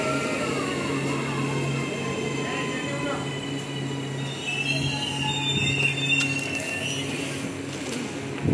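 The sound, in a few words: train arriving at station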